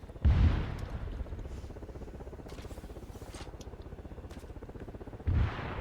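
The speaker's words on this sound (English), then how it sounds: "I got him in the secondary explosion" Secondary explosion in the military video game Arma 3, with a booming blast at the start and another near the end over a steady rumbling engine drone.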